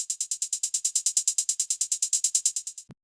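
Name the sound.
one-step hi-hat pattern in beat production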